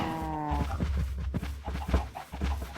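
Cows moo in the video game Minecraft, with several low, drawn-out bovine calls close together over steady game background noise.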